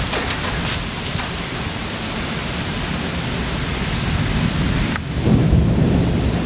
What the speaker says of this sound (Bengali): এই মুহূর্তে বাতাসের যে ঝাঁকুনি হচ্ছিল তাতে মনে হচ্ছে গাছের সব আম পড়ে যাচ্ছে।